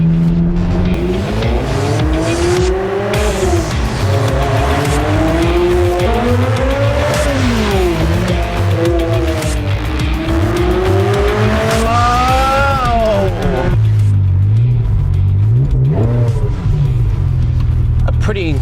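A 2001 Ferrari 360 Spider with a V8 and six-speed manual, driven with the roof off, engine revving up and down through the gears, loud and close, with speech over parts of it.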